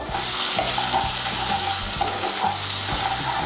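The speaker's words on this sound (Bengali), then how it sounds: "আদা বাটা, রসুন বাটা আর কাঁচা লঙ্কা বাটাটাকে ভালো করে মিশিয়ে নেব" Ginger, garlic and green chili paste fries in a pan while being stirred, a loud continuous sizzle with rhythmic scraping strokes of the spoon against the pan, close and busy.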